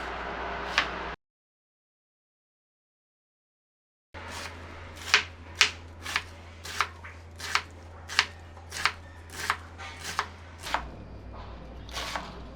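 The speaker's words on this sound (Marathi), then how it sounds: "आता मला स्वतःला बारीक चिरलेला कोबी आवडतो कोबी कसाही तुम्ही चिरू शकता" Finely shredded cabbage being chopped by knife on a board: about a dozen crisp, evenly spaced strikes, close and clear, following a short stretch of silence, with no talking.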